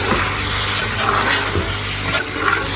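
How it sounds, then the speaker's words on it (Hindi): Mutton pieces and tomatoes frying in ghee in a pot, a steady, fairly loud hiss and sizzle with soft stirring scrapes throughout. "1 से 2 मिनट के लिए इसको हम ना भून लेते हैं ताकि गोश्त का थोड़ा सा जो है वो कच्चापन ख़त्म हो जाए।"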